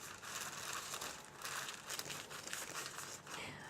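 Parchment paper crinkles and rustles close by while a cake pan is lined, a run of soft, irregular crackling handled bursts with no talking.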